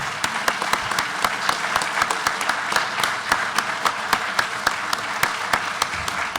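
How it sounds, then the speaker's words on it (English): An audience at an author talk applauds steadily, many hands clapping in a dense, sustained burst with no voices over it. "please join me in a round of applause for Opie Smith"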